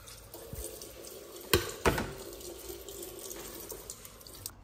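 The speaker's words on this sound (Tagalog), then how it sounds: "So, papalitan natin sila ng tubig." Water runs from a kitchen sink tap while the water for indoor plants is being changed, a steady indoor stream with a couple of louder splashes near the middle and no talking.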